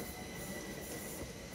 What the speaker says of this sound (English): there's one of those satisfying 3776 and 3777 subclass trains